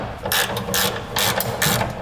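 A socket ratchet tightens bolts while a fifth wheel trailer hitch is mounted on a 2006 Dodge Ram pickup, giving several quick clicking pawl bursts in an uneven rhythm, close and clear with no talking.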